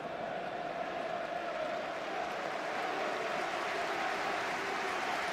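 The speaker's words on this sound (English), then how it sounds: "Sporting applause from the Birmingham fans as the stricken Eduardo is taken from the field of play" Birmingham supporters at a football stadium give a sustained, distant wash of applause, an even crowd roar that holds steady throughout without voices on top.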